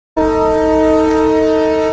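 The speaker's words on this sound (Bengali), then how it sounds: "তো এই যে আমাদের ট্রেন ছেড়ে দিল।" An Indian express train sounds a loud, sustained multi-tone horn right after a moment of silence, close by at a station, holding steady through the end.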